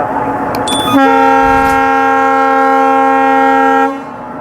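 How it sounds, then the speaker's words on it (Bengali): A passenger train running from Sirajganj to Dhaka Kamalapur sounds a long, loud, steady horn blast of about three seconds, close by, over rumbling rail noise. "যে ট্রেনটি দেখতে পাচ্ছেন এটি সিরাজগঞ্জ টু ঢাকা কমলাপুর"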